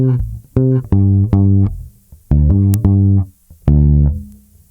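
Guitar playing the opening two bars of a song, a sequence of short plucked notes in groups with brief gaps between them, clear and close with no talking.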